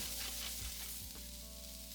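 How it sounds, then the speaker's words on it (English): Steady crackling sizzle of onion stir-frying in a hot pan until browned, continuous and close, with faint scraping of stirring. "Stir-fry it until the onion is browned."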